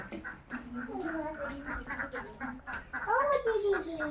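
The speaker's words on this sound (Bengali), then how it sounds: "এই দেখো কত হাঁস মুরগি সব এরা বসে" Ducks quacking in a yard among ducks and chickens, a few nasal calls rising near the end amid faint background voices and general farmyard noise.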